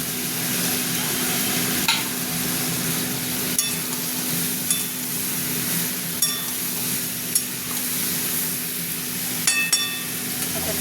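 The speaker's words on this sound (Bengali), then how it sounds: "এবার আমি টমেটোগুলো দিয়ে দিচ্ছি।" Tomatoes go into a pan of frying potatoes and prawns for a spicy jackfruit-prawn dish, producing a loud, steady sizzle broken by scattered light clinks of a spoon against the pan.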